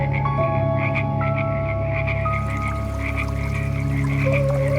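A dense chorus of frogs croaking near a river in the dark, Loveland, Ohio, steady and loud with pulsing calls layered over a droning background, and nobody speaking.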